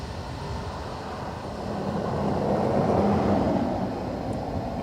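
A Ryanair airliner arriving at Dublin Airport from London Luton produces a broad, steady engine rumble that swells toward the middle and eases slightly, with no voices.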